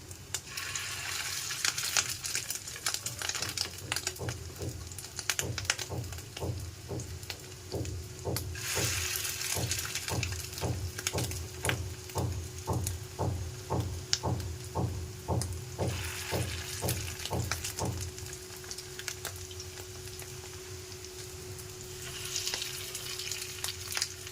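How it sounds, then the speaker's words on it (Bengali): Fish roe fritters (macher dim fry) sizzle steadily in a pan with constant crackling and a soft rhythmic ticking pulse running through the middle, no voices. "এক সাইডে ভাজা হোক, তারপর আমি এগুলোকে উল্টাবো।"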